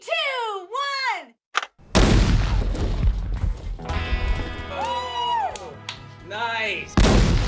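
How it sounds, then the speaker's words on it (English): An explosion sets off SKS rifles: a heavy blast and sharp gunfire-like cracks land amid excited voices, with whoops and shouted reactions before and after the loud bangs. "this is explosion setting off SKS rifles"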